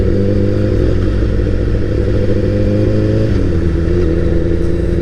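A 2015 Honda CBR 1000 RR Fireblade sportbike rides along with a steady, loud engine drone and low rumble, holding a fairly constant pitch with mild clatter and slight shifts in tone throughout.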